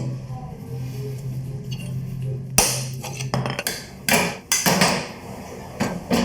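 Motorcycle hub bearing being hammered into place at a roadside workshop in Argentina: a series of sharp, close metallic blows at irregular intervals, about six or seven strikes, following a faint hum.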